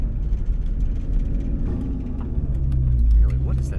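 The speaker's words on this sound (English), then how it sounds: "There's a lot of knocking coming from that left." Front suspension of a 2002 Mustang GT with a knocking fault, heard as an irregular low thumping over the running engine's rumble, fairly close, with a stronger thud near the end.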